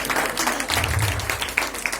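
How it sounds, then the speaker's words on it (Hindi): Applause from an audience at an award function in Jabalpur, a dense steady patter of many hands clapping throughout, with a faint voice underneath. "एक बार जोरदार तालियां"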